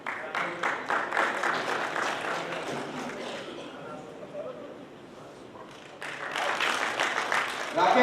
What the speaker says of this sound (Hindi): जोरदार ताली से स्वागत कीजिए राकेश जयपाल।